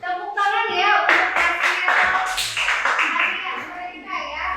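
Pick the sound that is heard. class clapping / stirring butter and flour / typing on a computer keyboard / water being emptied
class clapping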